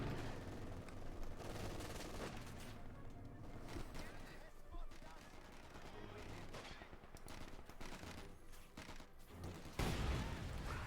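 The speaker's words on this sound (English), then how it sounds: "Panther here slowly approaching Veteran 3 as it murders the British infantry ceaselessly with its machine guns." Machine gun fire from a Panther tank in the Company of Heroes 2 strategy game, with bursts of gunfire and battle noise rattling throughout at moderate level.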